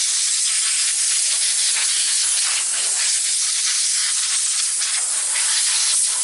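Air is blown in a loud, steady, bright hiss through an unoiled air filter from a Rovan 5T 1/5-scale RC car with a 32cc two-stroke engine, holding constant without pause.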